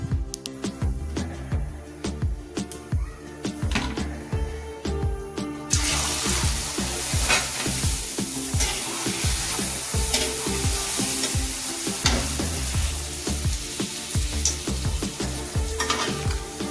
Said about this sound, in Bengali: এগুলো ভেজে নিই ফার্স্ট কাটিংয়ে, তারপরে ওগুলো ভাজবো